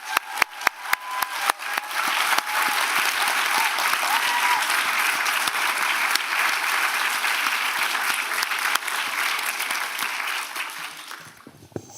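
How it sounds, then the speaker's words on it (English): A large audience applauds at a biomedical graduate school recognition ceremony, a dense, steady wash of clapping from many hands that starts with a few distinct claps, holds loud for about ten seconds, then fades away. "let's have one more round of applause for all of our QE graduates"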